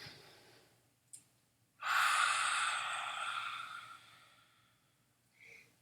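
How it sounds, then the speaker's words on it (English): During a stress-relief yoga exercise, a person takes a deep audible inhale and then releases a long, loud breath out that slowly fades, with a brief sniff before and a softer breath at the end. "Breathing in deeply."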